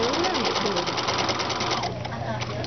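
A sewing machine stitching a quarter-inch seam, running in a fast, even rhythmic whir of needle strokes close by, easing slightly near the end.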